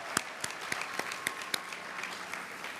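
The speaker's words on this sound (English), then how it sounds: "Let's give another round of applause to each of you coming to Columbia." A graduation convocation crowd at Columbia breaks into a round of applause, steady clapping with a few sharper claps standing out, filling the hall without any voices on top.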